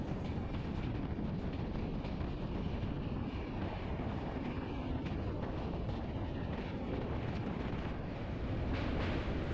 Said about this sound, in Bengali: দুপাশের বিস্তীর্ণ চম্বল উপত্যকার বনভূমির মাঝখান দিয়ে আমাদের ট্রেনটি চলেছে সর্পিল গতিতে